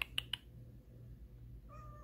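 A cat gives a short, faint meow near the end, after a few sharp clicks at the start, over a low steady background hum in a quiet indoor setting.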